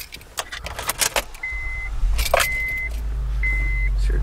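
An Acura is started from inside the cabin: a few clicks and key jangles, chimes from the dashboard, then the engine catches and settles into a steady, loud idle hum that fills the rest of the moment.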